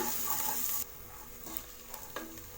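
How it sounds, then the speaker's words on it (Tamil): Coriander leaves and mint sautéed in a pan on a low flame, a gentle sizzle under a few soft stirring scrapes after an initial louder burst of frying, close and quiet. "இப்போ இதையும் நல்லா வதக்கி விட்டுருங்க. ஃப்ளேம் லோ ஃப்ளேம்லேயே வச்சு வதக்கி விடுங்க."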